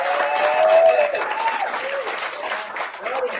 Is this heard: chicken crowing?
no